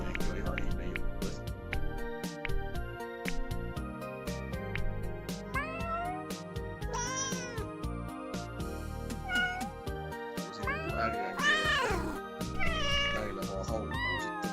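A cat meows repeatedly, several drawn-out rising and falling calls scattered over a busy background of other sounds, fairly close and clear.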